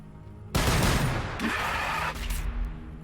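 Heavy gunfire from the Warhammer 40K: Battlesector video game erupts suddenly as a loud, dense volley and keeps up as a sustained, rolling fusillade of overlapping shots and booms for the rest of the clip.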